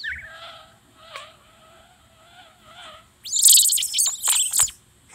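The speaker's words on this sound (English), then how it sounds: "these birds in this area sure are loud" Looping ambient birdsong from Old School RuneScape, with repeated warbling chirps followed by a louder burst of high, shrill twittering near the end, steady and close with no voices.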